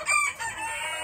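A Golden Boy Sweater gamefowl rooster on a farm gives a single short, close crow with a sharp, strained quality, cut off after about a second.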